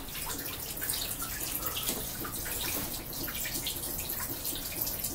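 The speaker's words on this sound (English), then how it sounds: "I just want to show you the hose on our boiler. It's leaking like crazy." Water pours and sprays steadily from a leaking hose on a boiler about two years old. The hiss and splash stay constant and fairly close, with no talking.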